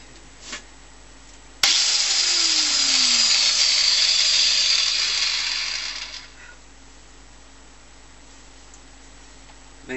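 An angle grinder cuts metal on a Chester Eagle 25 milling machine with a sudden loud start, a sustained high whine for several seconds, then spins down into quiet workshop hum.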